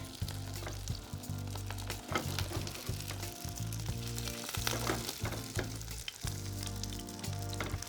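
Rice sizzles steadily in hot clarified butter in a pan, a loud continuous crackling fry with bursts of spitting, no talking over it.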